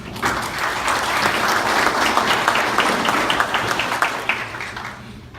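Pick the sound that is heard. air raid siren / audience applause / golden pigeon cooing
audience applause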